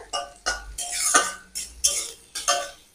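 Potato and egg bhujia being stirred in a pan, a utensil scraping and clinking against the metal in about six quick, rhythmic strokes, close and clear with no talk.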